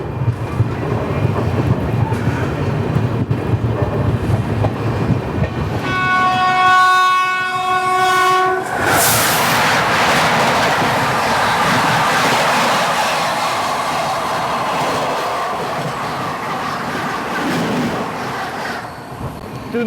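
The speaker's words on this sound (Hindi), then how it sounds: "तिरुनेलवेली गांधीधाम हमसफर एक्सप्रेस।" The Tirunelveli Gandhidham Humsafar Express passes nearby, announced by a loud sustained horn blast, then a roaring rush of wheels and carriages that keeps going steadily to the end, with no voices.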